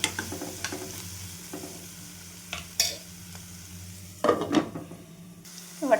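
Rice and peas being stirred and roasted in a pan, a soft steady sizzle broken by scraping spoon strokes that come louder near the end, with no one talking.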